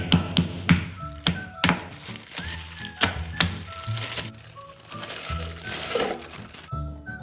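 Palm sugar sealed in a plastic bag is struck and crushed, giving a string of sharp knocks and thuds mixed with crinkling plastic, irregular and close, with no talk.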